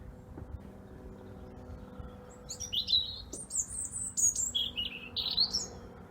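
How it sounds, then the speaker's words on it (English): Two robins sing high, bright phrases back and forth over a low rumbling background, clear and moderately close, starting a few seconds in. "Two robins talking to each other."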